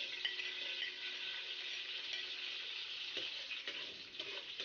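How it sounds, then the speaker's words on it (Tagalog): Garlic sautéing in oil in a big wok, with a steady, close sizzle and occasional faint clinks of a utensil stirring, no voices. "On a big wok, just pour some oil, spread it on the wok, and let's start sauteing our garlic."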